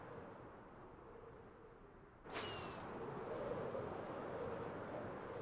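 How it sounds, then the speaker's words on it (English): A firework rocket fires in a video game to boost travel through a tunnel, a sudden whooshing burst over a low steady rush that carries on afterward. "Using up so many fireworks doing stuff like this, though."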